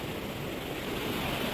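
Steady broadband wash of ocean waves and surf on a beach at low tide, a continuous rushing roar with some wind noise and no distinct breaks.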